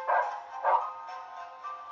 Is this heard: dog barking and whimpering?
yes